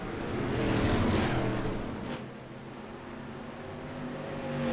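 Dirt Street Stock race cars running laps on a dirt track make a loud, steady engine roar that swells and fades as the pack sweeps past. The sound then builds again toward the end.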